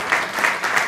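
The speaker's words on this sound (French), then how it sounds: "s'il vous plaît, les applaudir." An audience applauds at an inauguration speech in a brief burst of dense, even clapping, loud and close.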